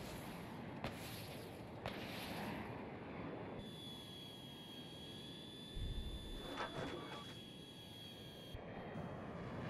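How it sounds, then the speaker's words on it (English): Fighter jet engine passing overhead in the video game Battlefield 2042, a steady broad roar with a high whine, sustained across the clip with scattered thumps beneath. "Looks like there's a fighter jet up there."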